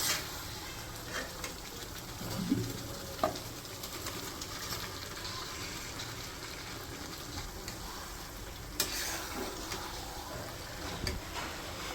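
Beef tripe cooks in a fried spice mixture in a wok on a village stove, a soft steady sizzle with occasional clinks and scrapes, plus faint background chirps and coos, no talk.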